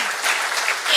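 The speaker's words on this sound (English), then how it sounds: "Where's my thunderous applause?" Brief audience applause, a dense steady wash of many hands clapping together, fairly close and even throughout, with no voices standing out.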